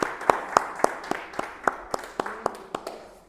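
A church congregation claps in praise, with about a dozen sharp, fairly evenly spaced hand claps ringing out over a quiet room.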